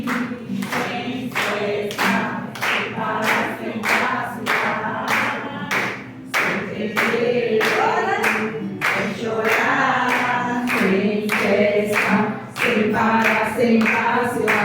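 A church congregation claps hands in a steady, loud rhythm of sharp, evenly spaced claps that continues without talk for the whole stretch.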